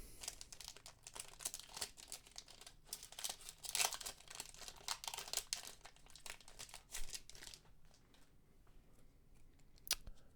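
Crinkly foil wrappers of One Piece TCG OP10 booster packs are torn and crumpled open in a dense run of sharp rustling rips, close and fairly loud, thinning into quieter crackles near the end with one last crisp tear.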